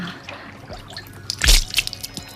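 Water scooped by cupped hands from a nearby stream and tossed onto a bush: a soft splash and patter of droplets on leaves, one main burst followed by scattered drips, close.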